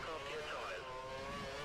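A Formula 1 race car in the F1 2013 video game revs as it leaves the pits, a steady high-pitched engine whine with shifting pitch, moderately loud and continuous for a short moment.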